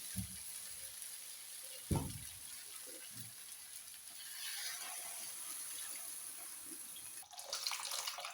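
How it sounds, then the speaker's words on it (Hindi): Water pours into a pan of frying masala for a rohu fish curry, a continuous splashing gush under the cooking hiss, preceded by a few clanks and ending in a louder burst of sizzle. "अब मैं इसमें पानी ऐड करूँगी।"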